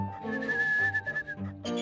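Whistling is heard in the 1995 video game Ripper: a short, clear melodic phrase of sustained and shifting notes that breaks into a few quick chirps at the end, lasting under two seconds.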